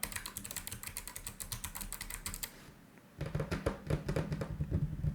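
Rapid, steady clatter of keys on a computer keyboard, close and continuous, with a brief lull before the typing resumes at a busier pace.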